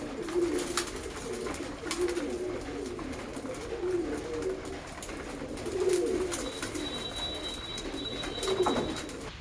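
Pigeons cooing nearby in repeated soft, throaty phrases that swell and fade every second or two, over faint background noise, with no one speaking.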